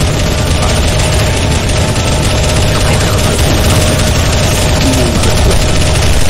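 Loud, continuous rapid gunfire in a CS:GO Zombie Escape match, many weapons firing at once in a dense, unbroken barrage that fills the whole stretch.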